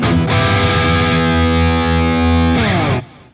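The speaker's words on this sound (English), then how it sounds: "I added the open high strings too, so a lot of cool things you could do when you try to emulate a pedal steel, even though I'm using distortion in this case" Heavily distorted electric guitar bends toward pedal-steel-style swells while open high strings ring against the fretted notes, loud and sustained for about three seconds before cutting off into a short fade.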